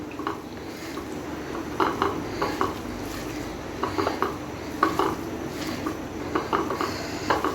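Egg being kneaded by hand into beef mince for kofta curry, wet squishing and slapping pulses repeating at an uneven rhythm, close and moderately loud over a faint room hiss.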